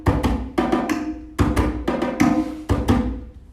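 A sabar drum plays a fast dance-rhythm groove up close, a repeating pattern of sharp, ringing strokes in uneven clusters with no voices over it.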